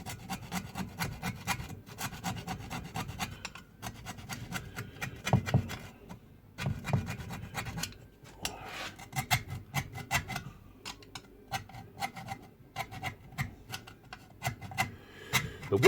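Screwdriver scraping and rasping against the metal body of a Ford Cortina, a steady run of close, gritty strokes with short pauses and a sharper scrape near the middle.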